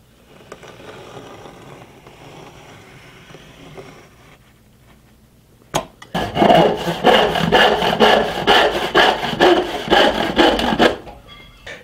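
Hand saw cutting through wood with a fast, steady back-and-forth rhythm of loud rasping strokes, close up, after a few seconds of quieter scraping, while building a tool tote with only hand tools.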